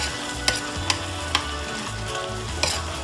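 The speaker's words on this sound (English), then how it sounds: "As the tomatoes start to soften, I'm just going to take the back of my spoon and give them a little mash." A spoon mashing softened tomatoes in a sizzling pan for salmon fish stew, a steady fry hiss broken by four sharp scraping taps, with no talk.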